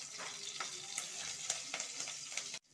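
Chopped garlic and slit green chillies fry in hot oil for an eggless chilli chicken, giving a steady close sizzle with a few soft stirring scrapes before it cuts off abruptly.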